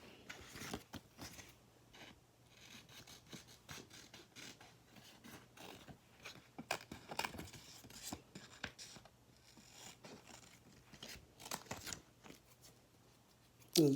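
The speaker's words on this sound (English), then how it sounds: "All I do is use these are fussy cut scissors," Small fussy-cut scissors trim lip gloss labels, making a long run of quick, close snips and crisp paper clicks in an irregular rhythm, with the loudest cut at the very end.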